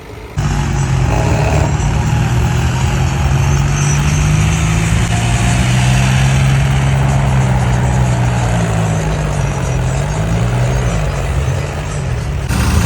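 Several tractor engines run together on a flood-breached river embankment in Punjab, a steady loud diesel drone with a wavering low hum that holds for the whole stretch, no voices.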